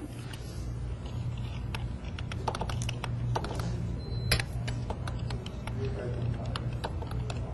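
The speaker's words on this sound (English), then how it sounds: "I love typing when people are watching" Rapid, uneven clicks of typing on a computer keyboard, close and crisp, in bursts over a low steady hum, with a person talking intermittently.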